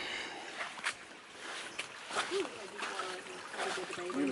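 A small forest brook in Kentucky's Red River Gorge splashes and trickles with irregular bursts over a soft constant flow, while a voice speaks intermittently over the water.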